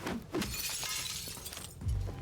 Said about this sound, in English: All the windows smashed in?